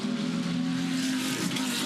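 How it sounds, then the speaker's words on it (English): GT race cars, including a Porsche with a six-cylinder boxer and a V12 Aston Martin, roar past on a Townsville street circuit, a dense, steady blare of engine noise with a sustained droning tone and no voices. "We've got a 6-cylinder boxer in the Porsche and a V12 in the Aston"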